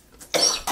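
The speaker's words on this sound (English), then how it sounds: "you'd think I'd be faking my cough" Two short, harsh coughs close to the mic, one after the other, with a brief pause between them.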